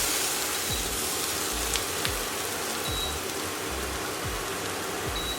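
Onions and garlic sauté in a pan with salt and white pepper, a steady soft sizzle throughout with occasional low thumps as the pan or contents shift.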